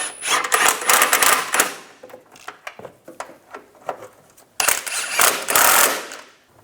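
Rapid clicking ratchet bursts from a wrench tightening the rear shock absorber bolts on a 2010-2016 Cadillac SRX, two long busy runs separated by a sparser stretch of single clicks, close and fairly loud.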